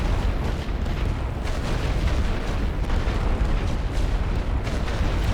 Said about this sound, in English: The light barrage is doing a great deal